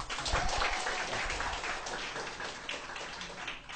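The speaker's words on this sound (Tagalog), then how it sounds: "Wala bang palakpak dyan?" An audience at a business plan presentation applauds, a soft, steady wash of many hands clapping at some distance that gently fades over a few seconds.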